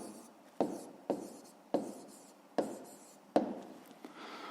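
Pen strokes scratch across paper in a quick regular rhythm, about six short strokes each starting sharply and trailing off, close and fairly quiet with no talk.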